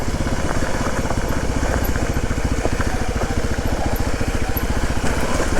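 A loud, close motorcycle engine drones steadily while the bike climbs a steep uphill trail, with rapid, even firing pulses throughout and no talking.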